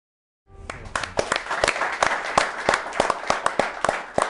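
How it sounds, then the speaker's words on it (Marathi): An audience at a televised special show on drought relief and voluntary labour claps steadily in a dense wash of applause, with sharper individual claps standing out at a regular beat, beginning abruptly after a brief silence and continuing throughout. "या श्रमदानामध्ये ज्यांनी घाम गाळला त्यांच्यासाठी खरं तर आपण या टाळ्या वाजवल्याच पाहिजेत"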